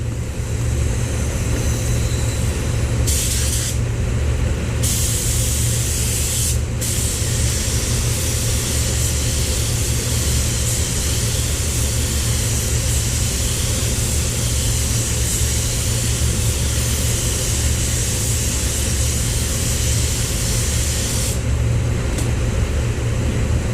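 PPG paint going on in a spray coat, heard as a continuous loud hiss over a steady low compressor rumble, with a few brief pauses in the spray, no talking.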